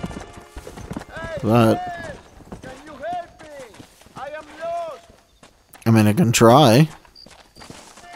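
Horse hooves clip-clopping in Red Dead Redemption on PS3, rhythmic hoofbeats running under a player's talk and character dialogue, with music and game ambience around them.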